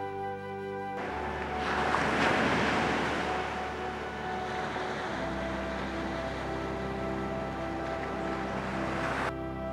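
Surf breaking on a sandy beach on the south coast of New South Wales, Australia, a steady broadband wash that swells around the second second and then rolls on continuously, with a low steady hum underneath.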